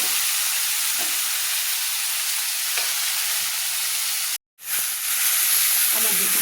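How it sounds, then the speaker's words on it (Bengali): Bottle gourd stems sizzle steadily in a pan while being stirred for a Bengali fish curry, a continuous loud hiss with faint scraping that cuts out briefly near the end, then resumes. "লাউ ডাটা মাইজে সেদ্ধ ঝোল করার জন্য দিয়ে আমি ভালো করে নেড়ে নিচ্ছি"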